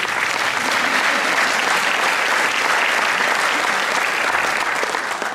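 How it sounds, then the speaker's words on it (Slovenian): Loud, sustained applause from a concert audience at a benefit concert, a dense, continuous roar of many hands clapping close by, with no break throughout. "in ko že ploskamo"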